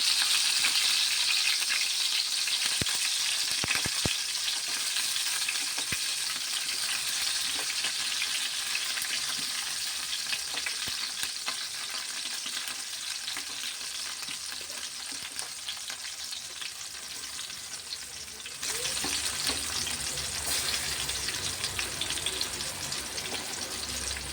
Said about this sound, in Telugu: ఇప్పుడు వంకాయలు మనం స్లోగా ఇందులోకి వేసుకుని ఫ్రై చేస్తున్నాం అనమాట